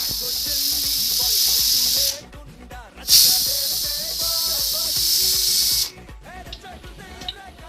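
A pressure cooker boiling chicken vents loud, steady steam hisses in long bursts, with a brief pause between them and a final stop, all heard up close.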